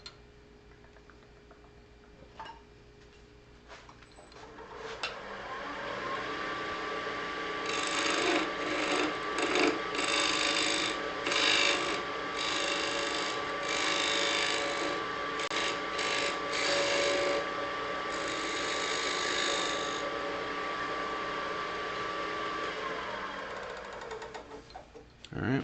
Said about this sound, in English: I'm going to go ahead and cut a tenon on this so I can get it in the chuck